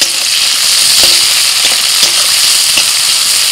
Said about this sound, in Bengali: ফোড়নটা হয়ে গেলে দিয়ে দিচ্ছি পেঁয়াজ কুচি